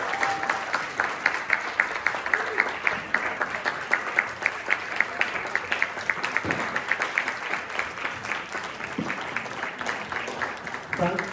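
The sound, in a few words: applause for a panel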